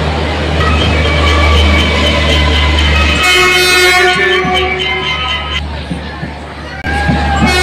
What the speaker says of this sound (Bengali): আসছে সাইরাং কলকাতা এক্সপ্রেস।